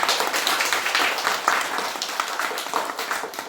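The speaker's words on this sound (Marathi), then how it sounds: "सर्वप्रथम त्या दोघांचा आपण टाळ्या वाजवून स्वागत करू" An audience at a school felicitation ceremony in Beldarwadi claps loudly and continuously, a dense, close burst of applause that holds steady and tapers slightly toward the end.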